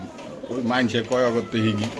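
Pigeon at a Dhaka pigeon market giving several close, clear rolling coos in quick succession, with someone talking nearby.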